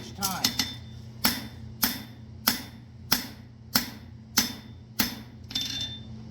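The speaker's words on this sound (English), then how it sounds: "My hammer hitting the same spot each time." A hammer strikes a horseshoe on an anvil about ten times in a steady rhythm, each blow a sharp metallic ring that decays quickly, with a quick flurry of lighter taps at the start, close and clear over a low hum.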